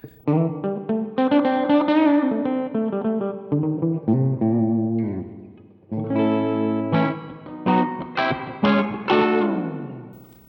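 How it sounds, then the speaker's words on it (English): Electric guitar played through a Donner Verb Square reverb pedal on its spring setting: a string of single notes and chords, each trailing a splashy, classic spring-tank reverb tail, played alone with no talking. "So spring reverb, very, very classic traditional sounding reverb, like you would get on a reverb tank on a combo amp"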